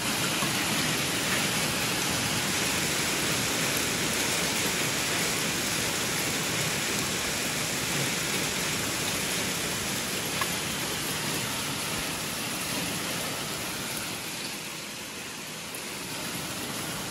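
Hail and rain falling in Durrës, Albania, at the end of September, a dense unbroken hiss that stays loud and steady throughout and eases slightly near the end, with no voices.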